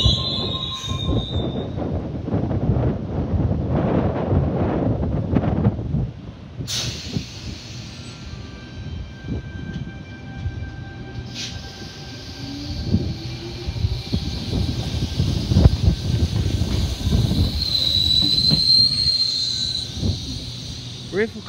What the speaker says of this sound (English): a Waratah arriving at platform number 4